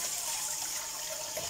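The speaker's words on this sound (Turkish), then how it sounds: "Dolma taşımızı da güzelce bir suya tutalım yine." Tap water runs steadily over a dolma stone held under the faucet in a home kitchen, a soft continuous hissing splash heard alone at moderate loudness.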